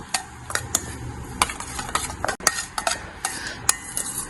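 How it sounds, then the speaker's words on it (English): A utensil stirs and scrapes through raw papaya salad dressing with salt and sugar in a bowl, giving a run of irregular clicks and taps close by, no talking. "Mix it till the sugar dissolves."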